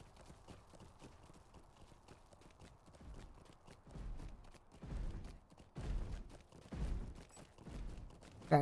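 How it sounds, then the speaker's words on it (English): Heavy, booming footsteps in the game Lord of the Rings Online, a slow series of deep thuds that grow louder and closer over about eight seconds, with no voices over them. "Very impressive footsteps."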